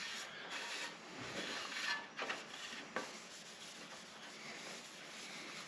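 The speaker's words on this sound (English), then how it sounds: "So we're going to finish waxing these up real good, front and back." Harbor Freight 20-inch high-velocity floor fan blades are rubbed with wax by hand, giving soft, close swishing strokes at a low level with a few brief louder scuffs.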